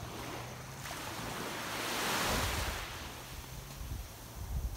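Waves washing onto a seashore with reddish water near a river mouth and reef, a steady broadband wash swelling in the middle and easing off, with low rumble and wind buffeting on the microphone; no one speaks.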